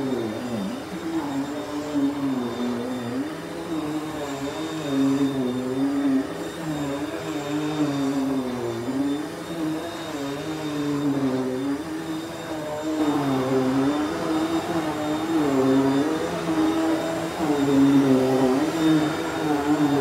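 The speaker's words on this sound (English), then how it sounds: "this rug is kind of hard to push a vacuum on" An Electrolux Prolux 9000 HEPA sealed vacuum cleaner runs on a rug, a steady close motor drone whose pitch wavers as it is pushed back and forth, with no talking.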